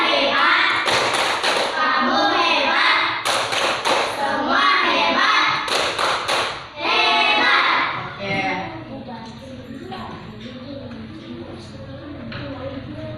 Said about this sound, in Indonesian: mari kita tepuk hebat untuk kalian semua. Tepuk hebat.